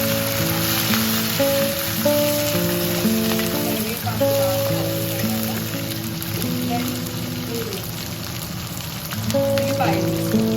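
Curry leaves crackle and sizzle in hot oil for a drumstick sambar with green chillies, a continuous dense hiss under steady tonal background music.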